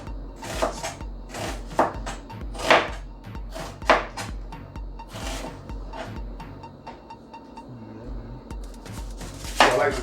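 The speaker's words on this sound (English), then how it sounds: "So I like to do mine in thin shavings. Now some people like their cabbage diced, but I prefer long strips." A knife chops cabbage into thin strips on a cutting board, a series of sharp, close, irregular strokes with a few clustered cuts, while a person talks quietly in between.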